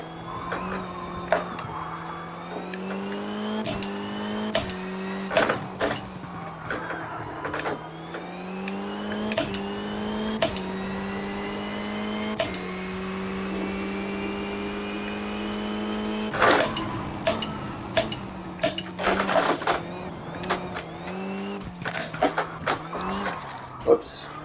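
Rally2 car in the video game WRC Generations driving on gravel: a steady engine note rises and falls through gear changes and revs, with scattered crunches and knocks, and someone talking over it.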